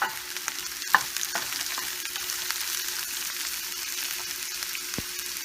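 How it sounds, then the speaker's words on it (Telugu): Ginger garlic paste frying with onions in a pan, a continuous hiss with occasional spoon scrapes and taps against the pan, fairly close and with no talking. "దీంట్లో జింజర్ అండ్ గార్లిక్ పేస్ట్ వేసుకొని ఇది 1 minute ఫ్రై చేసుకుందాం"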